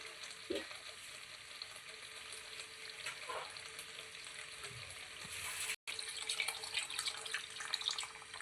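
Steady soft sizzling of a bocha fish curry in a pan as a little water is added to the oil, a continuous faint crackle with a brief splash of liquid and a short dropout near the end.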